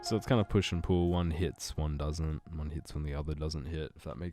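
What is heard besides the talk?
None of the usual background noises is heard.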